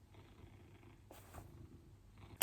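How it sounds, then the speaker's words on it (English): A pet cat purring close by with a steady low rumble, faint and continuous, and a brief sharp scratch or click at the very end. "my cat purring?"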